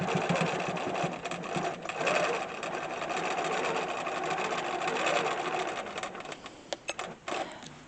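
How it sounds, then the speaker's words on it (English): A domestic sewing machine free-motion quilting runs steadily and fairly loud, its rapid stitching hum continuous with a few brief stops and clicks near the end. "I first learnt how to Freemason quilt on the sewing machine, domestic sewing machine"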